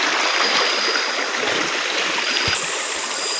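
Fast-flowing river water rushing over rocks, a loud, dense, continuous roar close by, with a couple of faint low knocks partway through.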